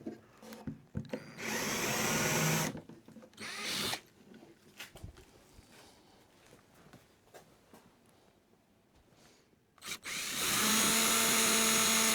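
A power drill whirs in loud bursts countersinking holes in wooden boat planks, with quieter scraping and handling noises between runs, ending on a long sustained spin.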